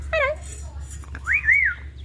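A talking parrot whistles in a series of bright, clear rising and falling notes, first a short wavering run and then a longer swooping whistle, close and alone over a low background hum.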